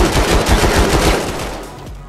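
Rapid automatic gunfire from a weapon in the VR shooter Vail VR, a dense burst of close, loud shots that tapers off toward the end.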